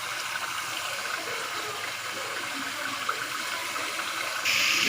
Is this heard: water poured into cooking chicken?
yes